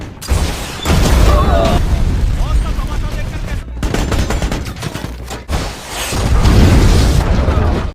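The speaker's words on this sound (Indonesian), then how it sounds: "Setelah itu sebuah RPG kembali ditembakkan." A rocket-propelled grenade is fired during a firefight, with loud booms, bursts of gunfire and explosive blasts overlapping in dense, close succession, broken by a couple of brief gaps.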